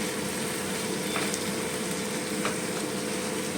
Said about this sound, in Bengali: টমেটোটা যতক্ষণ না পুরোপুরিভাবে গলছে ততক্ষণ এটাকে ভালো করে ভেজে নেব